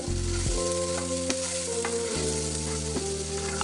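Greens stir-frying in a pan with tomato, sliced green chili and salt, giving a steady loud sizzle with a few stirring scrapes and clinks of the utensil.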